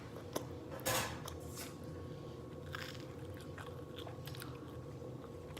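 A homemade grilled cheese sandwich is bitten with one crisp crunch, then chewed quietly and close up over a steady background hum.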